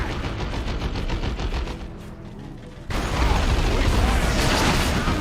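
A tank-buster artillery barrage in Company of Heroes 2 rattles along as a steady stream of rapid mechanical clatter and shots, dipping briefly before erupting into a louder, denser burst of fire.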